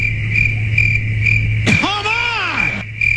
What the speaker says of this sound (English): Let them crickets roll.